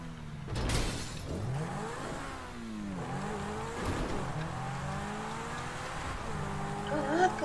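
Car engines rev and whine with rising and falling pitch in a racing video game, accompanied by a crash and brief tire squeal, moderately loud and continuous.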